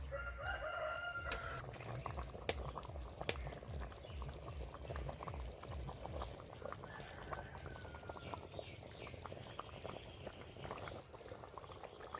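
Hot water is poured into a pan of cooked-down jackfruit and chicken, giving a steady, low bubbling sizzle that carries on throughout, with faint background noises and what may be a rooster crowing in the distance.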